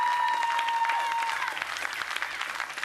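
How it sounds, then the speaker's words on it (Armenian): An audience at a talent show applauding the Arma dance ensemble, a dense, loud wave of many clapping hands with a brief tone at the start, tapering slightly toward the end. "ծափարենք Արմա Պարային Համույթին։"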